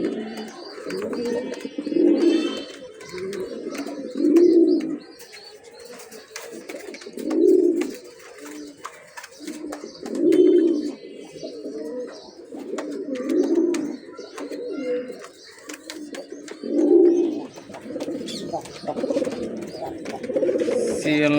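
A breeding pair of pigeons coos in repeated, rhythmic bursts every couple of seconds, near and fairly loud, with faint chirps behind and a voice now and then.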